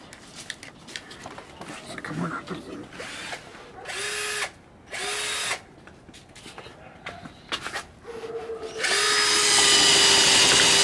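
A small drill bit bores into material in several loud bursts of whining power-tool noise, separated by short pauses, then settles into a long, steady, high-pitched drilling run at close range. People talk between the bursts.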